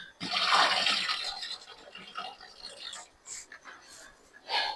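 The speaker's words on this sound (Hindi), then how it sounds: "प्याज को पहले मैं धो लूं" Chopped onions being washed in water make a burst of splashing and sloshing up close, then softer intermittent trickles and swishes, with someone speaking in between.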